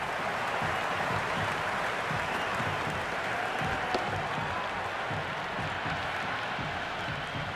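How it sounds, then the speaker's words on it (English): A large crowd in a cricket video game cheers and applauds loudly and steadily, a dense continuous roar that holds at even level throughout, with no talk over it. "It's evident and ever so audible that the crowd is at near bursting point at today's play."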